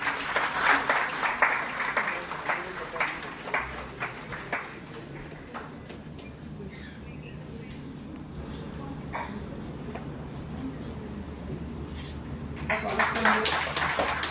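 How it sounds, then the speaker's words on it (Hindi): Audience members clap in welcome at a Bharat Bharati event, scattered claps at first, then a steadier wash of applause that swells again near the end, with talk mixed in. "एक बार जोरदार तालियों से इनका स्वागत"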